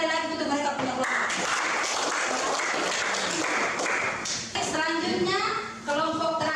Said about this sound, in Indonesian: tepuk tangan sekali lagi untuk mereka punya kelompok